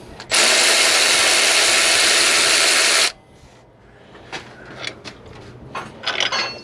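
A power ratchet buzzes loudly for about three seconds while removing 15mm tensioner bolts during a water pump swap on an LS truck, followed by softer clicks and clinks of tools and metal.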